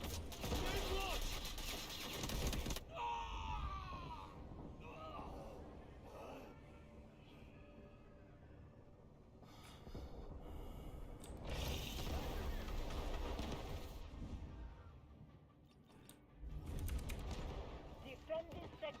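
Video game battle with a grenade launcher and gunfire: loud bursts of shots and explosions come and go over a dense noisy mix, with voices talking through it.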